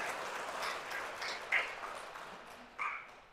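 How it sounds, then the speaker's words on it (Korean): A church congregation at a Catholic parish applauding together, steady crowd clapping at a distance in a reverberant hall with a few faint sharper tones. "박수 한번 쳐드릴게요"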